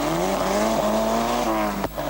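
A large Volvo rally car runs a stage at the 1985 Masterrally. Its engine drones loud and steady with a strong, even tone, then briefly dips near the end as if shifting gear.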